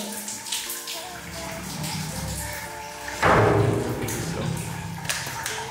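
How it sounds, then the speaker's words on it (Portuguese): Water runs from a bathtub tap and shower at home: a continuous rushing flow with a louder splashing surge midway, plus a few thumps and a faint voice in the background. "você ligou a banheira e o chuveiro depois?"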